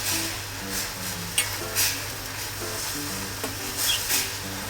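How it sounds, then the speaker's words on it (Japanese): Tangy marinade sauce with alcohol and vinegar heated to a boil in a pan for pickled cucumbers, giving a steady bubbling sizzle with occasional sharp clinks and stirring scrapes, close up. "そしたらこちらを火にかけて、沸騰させます。"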